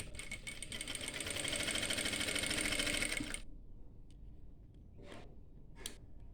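A sewing machine runs steadily for about three seconds while stitching a petticoat, then stops. A couple of faint rustles and clicks follow in near quiet.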